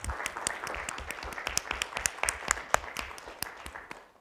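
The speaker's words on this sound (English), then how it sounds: "Let's give a round of applause for the student speakers." Audience at a university math conference applauding student speakers, a moderate spread of many individual claps with sharper near claps popping out, steady throughout.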